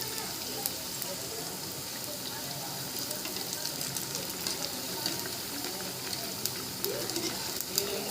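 Sabudana vada frying in hot oil, a steady dense sizzle with small crackles and pops close by, continuous and moderately loud with no talk.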